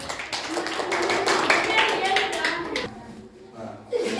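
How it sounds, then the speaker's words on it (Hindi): Children clap together in a quick, uneven burst of applause, close and lively, with voices talking over it before it thins out near the end. "ताली बजाओ।"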